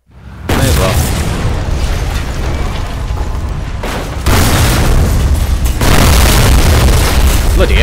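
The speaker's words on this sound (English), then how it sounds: "Didn't need them loud explosions for no reasons." Loud, continuous booming explosions from the racing video game Burnout Revenge, with blasts swelling in waves over a dense roaring wash, ending in a louder sustained stretch; a voice is faintly present.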